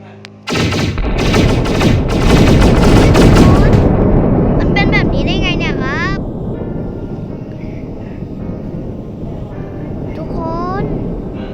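Heavy gunfire from an AK in the Solar Smash video game opens loud and dense, bursts of rapid shots merging into a roar, then thins out into scattered whistling, sweeping sounds and a fading rumble.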